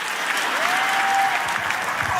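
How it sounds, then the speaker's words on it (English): A large church congregation of thousands cheers and applauds in a dense, steady wash of clapping and voices that fills the space. "Why are you cheering about that?"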